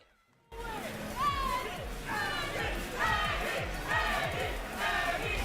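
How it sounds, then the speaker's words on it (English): A crowd at a Tekken fighting game tournament cheers and shouts in repeated swelling bursts, loud and lively, with high yells rising over a dense roar of voices. "I don't know who's cheering for my man."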